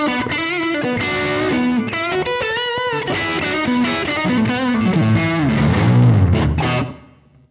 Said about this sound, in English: Patch 6, spring reverb engaged, analog delay engaged, and the booster engaged.